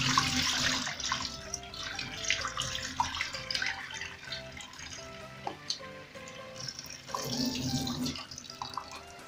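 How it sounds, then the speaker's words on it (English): Tap water runs and splashes steadily while about a kilogram of beef is washed for a wet fry, with shifting gurgles and clatter of meat and bowl at close range. "I'm going to start by washing it with just water"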